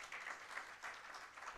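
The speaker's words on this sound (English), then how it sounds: "Let's clap for them, ladies and gentlemen." Audience applause for a panel at a tech-enabled financial inclusion event, a steady faint patter of clapping hands filling the short stretch without any voices.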